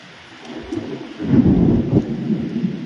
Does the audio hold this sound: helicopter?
no